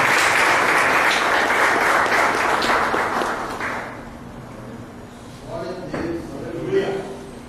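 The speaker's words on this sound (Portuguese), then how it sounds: "Glória a Deus, aplauda o nome do Senhor Jesus." A church congregation applauds for a few seconds, the clapping fading out as a voice begins speaking over a quieter hall.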